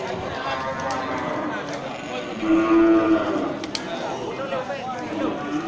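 A cheap Aceh cow at an Indonesian cattle sale lets out one long, deep moo mid-clip over steady background chatter and farmyard noise.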